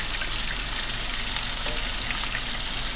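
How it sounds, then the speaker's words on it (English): Bluegill fillets deep fry in hot oil, giving a dense, continuous sizzle and bubbling hiss that stays even and close throughout. "the sizzling has slowed down."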